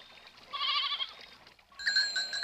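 Goats from a herd bleat in a mountain pasture, two wavering, nasal calls one after the other, fairly close and moderately loud, with no speech over them.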